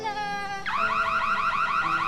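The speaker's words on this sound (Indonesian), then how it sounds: "saat keluar mengejar Jiale, alarm supermarket pun berbunyi dan membuatnya dibawa ke pos keamanan." A supermarket anti-theft security alarm goes off loud and near: a steady electronic tone breaks into a fast, repeating warble that keeps pulsing, with no voices.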